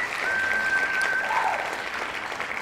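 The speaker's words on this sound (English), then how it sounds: "We got to give him a round of applause" Steady applause from a baseball crowd after a Yankees game against the Rays, broad and sustained throughout, with a faint whistle cutting through partway.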